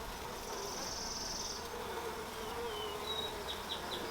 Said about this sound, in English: Very few bees are wanting to go and start working their way up the tube